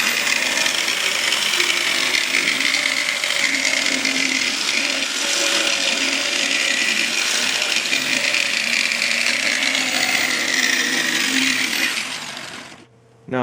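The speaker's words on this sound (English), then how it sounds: "Don't feel you have to push the jigsaw to cut" A jigsaw cutting through a Dell XPS PC case top panel for a radiator cut-out, a loud continuous buzzing whine held steady throughout before cutting off abruptly at the end.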